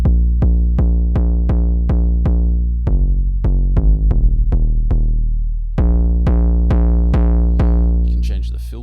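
An Ableton Operator 808 bass with the filter drive turned up plays a rapid run of punchy, gritty low notes, roughly eighteen hits. The distorted sustain buzzes between the repeated attacks, and a brief noisy crackle follows at the end.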